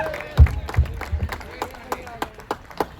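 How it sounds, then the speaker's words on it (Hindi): An audience at an annual-function kavi sammelan claps to welcome poet Sarvesh Choubey; the applause is brief and uneven, with scattered hand claps close by that thin out over a few seconds. "जोरदार तालियों के साथ स्वागत करते हैं"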